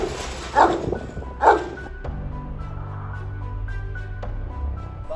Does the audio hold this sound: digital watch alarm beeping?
no